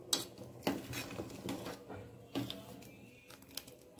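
Grated coconut being stirred into a thickened kozhukattai mixture in a pan, giving a few sharp scraping clinks of spoon against metal spaced irregularly over a low cooking background, with no talk.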